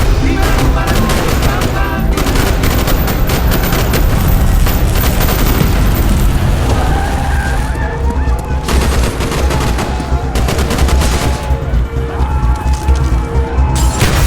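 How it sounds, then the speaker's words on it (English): Heavy sustained gunfire from the Call of Duty Black Ops video game during a street fight, with dense overlapping automatic bursts, booms and crashes filling the whole stretch at a loud, constant level. "Bowman, Carlos, lay down covering fire."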